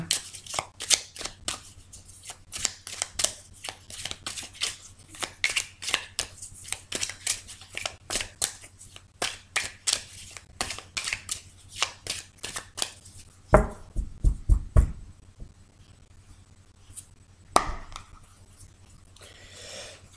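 Tarot cards are shuffled by hand in a quick, continuous run of crisp riffling flicks for about thirteen seconds, then a few louder taps and a brief final shuffle after a pause, with no talking.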